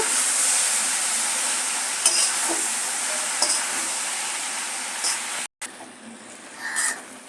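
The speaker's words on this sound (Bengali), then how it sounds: "পালং শাক দিয়ে এবারে ভালো করে সবজিগুলোর সঙ্গে মেশাবো" Spinach is stirred and mixed with vegetables in a pan, making a continuous frying hiss broken by a few light spatula scrapes and a brief drop-out near the end.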